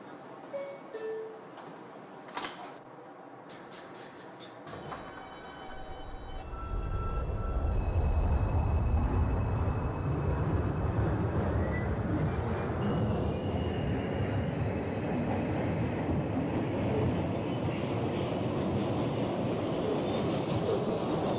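A New York City subway 6 train bound for Brooklyn Bridge pulls away in a train simulator game, a steady loud rumble of wheels and motors building after a few seconds of quieter station ambience with brief clicks.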